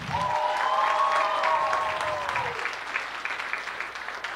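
A school show audience applauds warmly for the organisers, a steady crowd clapping that runs throughout while a faint tonal musical line sounds over the first half.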